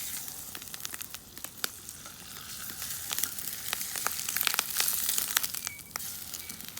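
An egg fries in a hot pot with a steady, crackling sizzle full of sharp pops and spatters, building slightly louder toward the end, heard close up with no talking.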